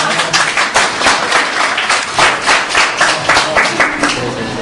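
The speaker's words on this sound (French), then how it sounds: "Il faut applaudir quand même." An audience at an NGO presentation about Mauritania claps loudly and steadily in a dense round of applause lasting the whole stretch, without talk over it.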